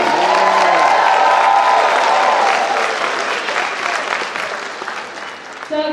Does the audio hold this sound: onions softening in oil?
no